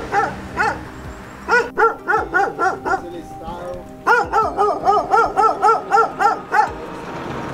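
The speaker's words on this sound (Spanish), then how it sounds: "Los perros están al lado allá." Dogs bark in two quick, rhythmic bursts of repeated woofs, fairly close and loud, with a short pause between the volleys and faint background movement.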